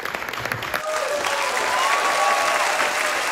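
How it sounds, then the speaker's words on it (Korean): Big applause rises for a bodybuilder winning first place at a grand prix contest, steady dense clapping from a crowd that swells and holds loud throughout, with a faint voice and a few tonal tones drifting over it. "큰 박수 보내주시면 감사하겠습니다"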